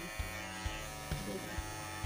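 A hair clipper buzzes steadily close by, with faint regular clicks ticking through the drone, while a person talks over it.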